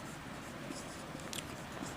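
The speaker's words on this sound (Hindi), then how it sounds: "तो चलिए यहाँ लिखते हैं पाइथागोरस प्रमेय से" A marker or chalk scratches in short light strokes on a board during a maths class, faint and close, with no talking.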